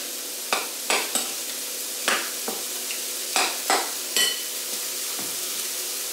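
A spoon scrapes and stirs a chorizo mixture around a hot frying pan over a steady sizzle, with about a dozen distinct scraping strokes at irregular intervals, close and fairly loud, no talking.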